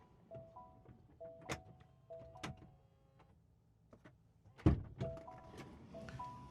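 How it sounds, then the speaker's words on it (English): A GAC M8 car door pulls shut with soft thunks and mechanical whirring from powered seat or window motors, several quiet clicks and hums inside the cabin followed by a firmer closing thud. "And you can still reach to close the door"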